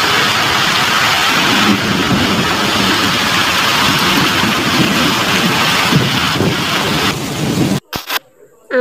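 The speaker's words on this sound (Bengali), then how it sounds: "একদম ঝমঝমিয়ে বৃষ্টি এলো আর সাথে ঝড়ও হচ্ছে।" Heavy rain pours during a storm, a loud, dense, continuous roar that holds steady before cutting off abruptly near the end.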